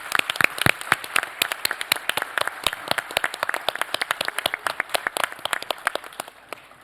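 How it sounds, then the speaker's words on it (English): An audience applauds at a panel discussion, a brisk crowd of sharp individual claps that starts strong and gradually thins toward the end, heard close and without talking. "we should just give a huge round of applause to everybody involved."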